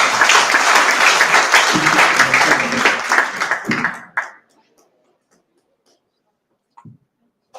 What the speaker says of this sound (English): Then please big applause for